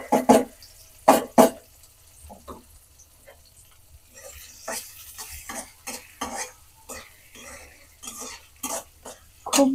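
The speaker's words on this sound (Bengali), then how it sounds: "এই যে গরম তেলে দিয়ে দিচ্ছি পেঁয়াজ কুচি" Chopped onion frying in hot oil, heard as a quiet background sizzle punctuated by repeated sharp scrapes and clatters of a spatula stirring against the pan.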